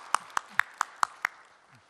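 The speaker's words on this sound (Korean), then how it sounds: "예, 박수 한번 보내주십시오." Six sharp, evenly spaced hand claps ring out in quick succession at a citizens' group meeting with the Korean president, each crisp and distinct, with no crowd roar behind them.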